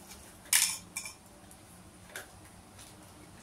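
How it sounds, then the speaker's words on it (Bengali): A metal plate set down over fish wrapped in banana leaf in a home kitchen, a sharp close clink followed by a softer second clink and a faint later tap, no talking. "এবার ওপরে একটা থালা দিয়ে ঢাকা দিয়ে দিলাম।"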